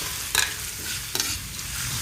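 A spatula scrapes and stirs shrimp and carrots in a frying pan with a steady sizzle underneath, two quick stirring strokes standing out, close and clear with no voices.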